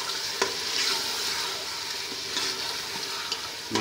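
Chicken fries in a pan with a steady, close sizzle, broken by a few soft clinks and scrapes of stirring, with no talking.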